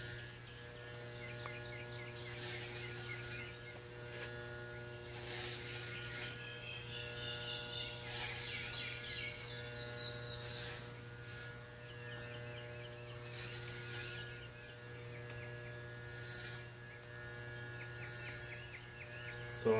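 Electric hair clippers buzz steadily at a barbershop haircut, a constant motor hum with swelling bursts as the blades cut through hair, and no talking.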